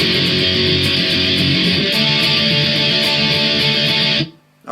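Loud distorted electric guitar power chords from a song, strummed in a dense continuous rhythm close up, cutting off abruptly near the end into near silence.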